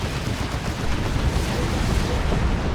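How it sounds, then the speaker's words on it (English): A big zap gun blasting from an Ork battle wagon in Dawn of War 2 during an Orks versus Imperial Guard match: a dense, continuous roar of energy fire and explosions, loud and sustained across the whole moment. "Big zap gun shot from the Ork battle wagon."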